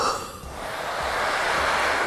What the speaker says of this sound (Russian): Нужно сильно-сильно подуть на наш сухой лед теплым воздухом